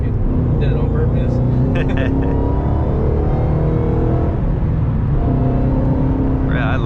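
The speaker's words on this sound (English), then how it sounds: "I like the whine. That whine is sexy as hell too." Mustang Shelby GT500 engine droning with a steady supercharger whine as it drives and shifts gears, loud and sustained, with people talking over it.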